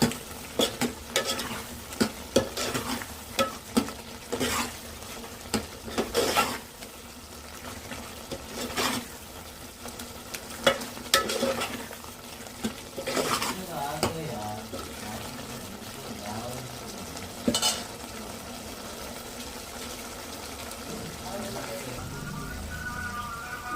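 Coriander powder stirred into a frying ridge gourd and egg curry, a soft sizzle under repeated scraping strokes of a spoon against the pan, close and uneven.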